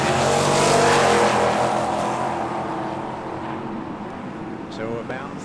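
A 1979 Mustang and a Nova at a drag strip roar off hard, the loud engine blare sweeping past and then fading into the distance with a commentator talking over it.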